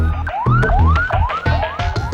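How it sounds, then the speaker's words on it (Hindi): An ambulance siren wails during street protests in Pakistan: a loud, fast rising-and-falling yelp that repeats about every half second over a low rumble of traffic, with no voices. "कभी एम्बुलेंस की आवाज किसी अनहोनी की आशंका में लोगों को कंपकपा देती है"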